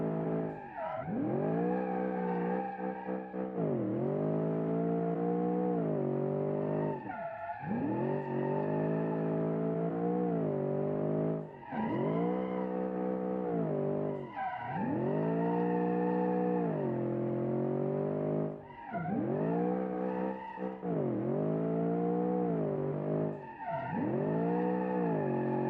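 Long limousine drifting in a driving video game, repeated drawn-out tire squeals with rising and falling engine revs in cycles of several seconds, loud and steady for nearly half a minute.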